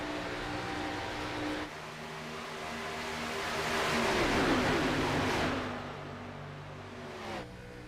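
A race car engine in the iRacing sim howls past, rising in a swelling roar midway and then lifting off the throttle, with a clear drop in pitch and volume near the end.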